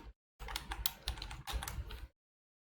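Rapid bursts of keystrokes on a computer keyboard as code for a Golang e-commerce project is typed, close and clear in two dense runs separated by a brief pause, with silence before and after.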